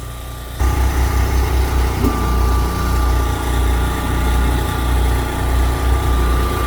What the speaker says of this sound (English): I'm going to have them start the skid steer and raise the bucket